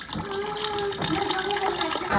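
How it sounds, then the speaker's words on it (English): Filtered tap water runs steadily into a cooking pot in a home kitchen, a close, continuous splashing stream with a faint rising fill tone. "Now I'm gonna fill this pot up with filtered water."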